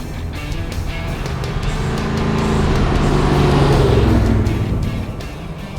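A big block Chevy powered Holden Torana accelerates with a loud, deep engine roar that builds steadily in volume and pitch as the revs climb, heard from close by.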